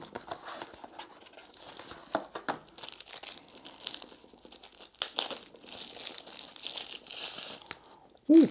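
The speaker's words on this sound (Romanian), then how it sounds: "Folie bigon." Bubble wrap packaging around a Xiaomi ratcheting screwdriver set being pulled open and crinkled by hand, irregular crackling and rustling bursts, close and fairly loud, ending with a sharper rustle.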